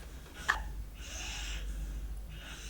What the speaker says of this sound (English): my dog is snoring here